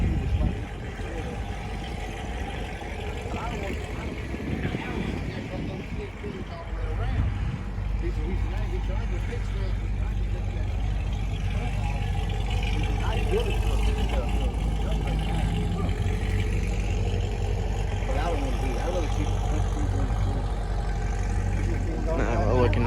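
A car's engine idles steadily at a car meet in an Arby's parking lot in Lexington, South Carolina, a low continuous rumble close by with a brief lift in level partway through, while people talk over it.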